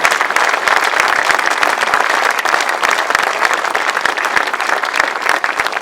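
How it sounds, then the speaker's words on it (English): Sustained, dense applause from a large crowd hailing the champion at a European grasstrack solo motorcycle final, steady and loud throughout with no pauses. "please applaud your champion"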